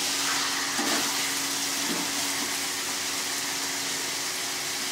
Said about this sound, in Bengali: এবার আমি এতে জল দেব।